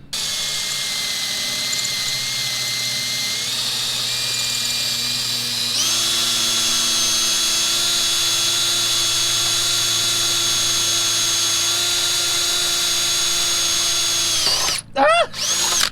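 A power drill bores holes into a boat's skeg, a loud, steady, high whine that shifts pitch partway through as it bites, then cuts off with a few short stuttering bursts at the end.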